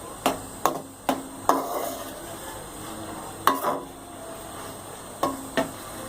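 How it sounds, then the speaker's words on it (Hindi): Chicken liver stir-fried in a pan for a kaleji masala, with a soft background sizzle and several sharp spoon or spatula knocks against the pan at irregular intervals, no talking. "कलेजी डाल के भुनाई करेंगे। कलेजी की हम अच्छी तरह भुनाई करेंगे।"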